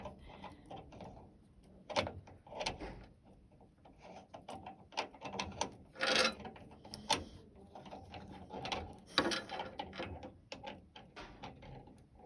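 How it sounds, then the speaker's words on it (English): A nut being threaded and tightened onto the blade of a Brevetti mitre saw, giving close, irregular metallic clicks and ratcheting rattles with a few sharper knocks. "So when you're tightening the nut, remember which way to go."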